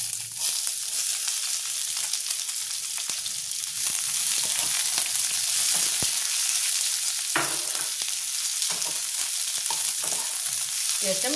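Onions frying in hot oil with bay leaves and dried red chillies until reddish-brown, a steady close sizzle throughout with occasional scrapes and clinks of a stirring spoon in the pan.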